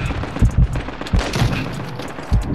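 Short, punchy gunshot bursts from the video game Call of Duty Warzone 2.0 crack out in an irregular rhythm, loud and close, with brief gaps of rumbling background between the volleys.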